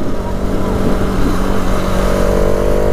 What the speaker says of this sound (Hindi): ये जो बाइक चला रहा है ना,